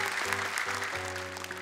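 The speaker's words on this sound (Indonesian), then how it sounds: "Tepuk tangan sekali lagi untuk Mora" Audience applause at a televised children's Quran memorization competition in Indonesia, a steady wash of clapping heard under sustained musical tones throughout.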